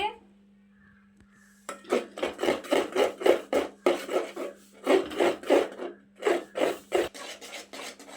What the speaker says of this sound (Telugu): కొంచెమే కాబట్టి గెంటితో కలుపుతున్నానండి.